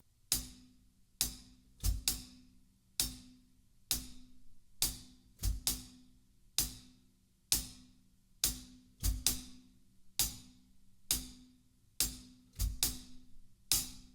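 Closed hi-hat struck with a stick in steady quarter notes, with an extra pedal hi-hat chick added before the third beat, giving a repeating pattern of crisp bright ticks. The drum kit plays alone and close, with no voices.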